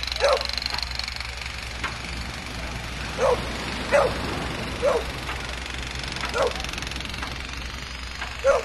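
Dogs bark in short, spaced-out bursts at a moderate distance, over a low steady engine hum and some background chatter.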